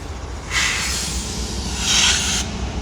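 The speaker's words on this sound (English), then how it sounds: "You hear the brakes." A CSX train's air brakes let out two broad hissing bursts over a steady low rumble, the first starting about half a second in and a louder one near the end, fairly close with no talking.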